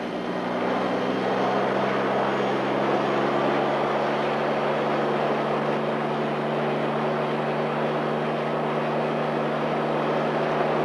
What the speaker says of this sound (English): everything's in readiness for the helicopter to assist